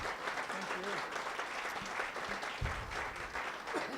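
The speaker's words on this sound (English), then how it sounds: "We'll give our speakers a round of applause for their work tonight." Audience applause for speakers at an evening Q&A event on the 2016 presidential election, a steady, moderately distant wash of clapping from a crowd, even in intensity throughout.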